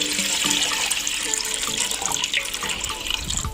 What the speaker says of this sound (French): je vais remplir de l'eau au niveau dont j'ai besoin